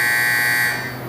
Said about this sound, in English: you might hear buzzers